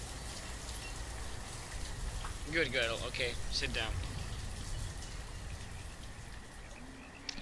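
Steady rain hisses throughout in the city-building game Banished, an even soft patter under a brief spoken phrase midway.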